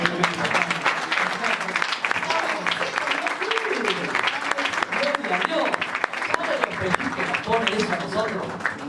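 Sustained applause from a group, with a voice talking over the clapping throughout.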